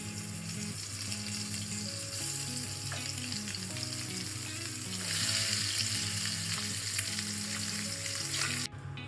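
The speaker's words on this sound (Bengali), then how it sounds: "তো আমি ডিমগুলোকে ফার্স্টে দিয়ে দিচ্ছি।" Eggs frying lightly in a little oil in a nonstick pan, a steady close crackling sizzle throughout with a few faint scrapes.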